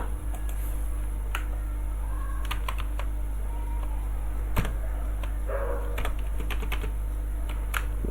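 Steady typing of web page code on a computer keyboard under Windows, scattered crisp key clicks with occasional louder strokes over a constant electrical hum, no voices.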